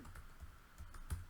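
Fingers tap out a short label on a computer keyboard in quick, quiet clicks, close up and alone.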